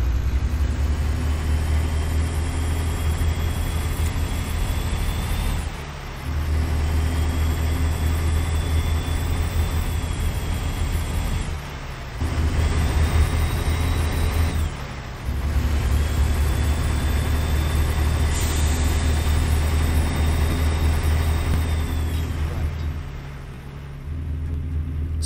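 A Freightshaker Classic XL truck with a Caterpillar C13 engine in American Truck Simulator holds a loud, steady diesel drone with rising revs. Three brief dips mark gear changes, and no voices are heard.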